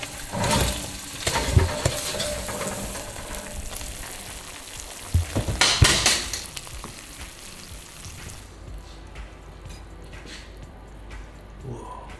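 Frozen steak hits a hot platter with a loud, broad sizzle that swells and crackles near the start, flares again in bursts mid-way, then settles into a quieter, steady hiss.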